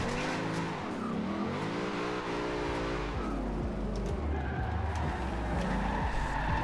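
V8-swapped VW Type 2 van drifting in Forza Horizon 2, with a loud, steady engine roar and tire skid squeal sliding through a corner, the engine note rising and falling as it slides sideways.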